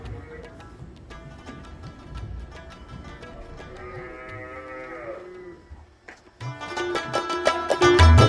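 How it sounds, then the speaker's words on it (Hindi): Buffaloes and their calves low and moo on an Ontario farm holding about 600 animals, several drawn-out calls in sequence, the last ones louder and closer, with faint background voices. "हमें भैंसें ही भैंसें और उनके बछड़े नज़र आ रहे थे"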